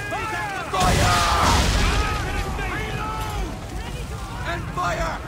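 Cannon fire from a sailing warship in Assassin's Creed III, a loud burst erupting after a brief lull and rolling into a sustained rumble, with shouted voices and battle noise over it.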